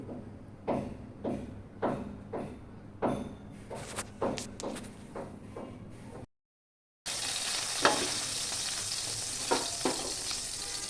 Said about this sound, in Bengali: মোটামুটি মাছ ভাজা হয়ে গেছে এখন আমি মাথা নামিয়ে ফেলবো